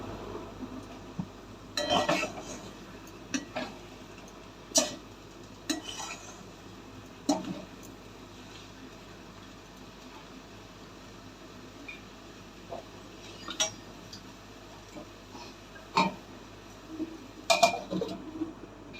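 A spoon stirs potato curry (aloo dum) in a pan, giving scattered clinks and scrapes against the metal at irregular intervals. The sounds are moderately quiet and close, with no one speaking.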